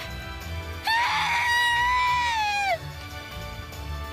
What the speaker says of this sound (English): Kasumi let out a piercing scream.